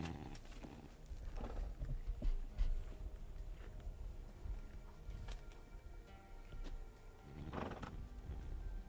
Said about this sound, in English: He gets woken up when one of the other horses stumbles in the gravel.